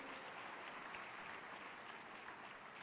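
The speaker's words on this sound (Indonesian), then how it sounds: "kita tepuk tangan yang paling meriah bagi Dia" Church congregation applauding during an online Christmas service, a steady wash of many hands clapping at a fairly soft, even level with no voices over it.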